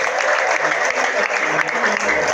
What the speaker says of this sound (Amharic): ለጌታ እስኪ አጨብጭቡ።